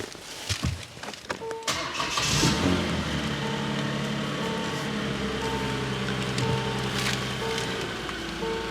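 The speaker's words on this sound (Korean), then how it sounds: "제가 시동 걸어볼게요." A Hyundai Genesis BH380 sedan, a North American-spec used car, cranks and fires up, then settles into a steady, close idle with a low engine hum running on alone.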